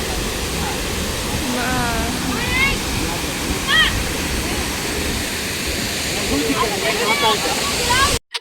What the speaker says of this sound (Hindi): झरने की आवाज़ ना इतनी तेज़ है कि कुछ भी सुनाई नहीं पड़ रहा है